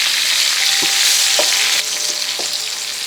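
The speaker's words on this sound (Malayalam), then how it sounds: "ഇങ്ങനെ ഇത് നമ്മളൊന്ന് തിരിച്ച് മറിച്ച് വെക്കി ഒന്ന് ഇളക്കി കൊടുക്കും" Okra masala fries loudly in a pan with a dense, constant sizzling hiss, a few soft knocks from stirring and turning rising through it, close up and without talk.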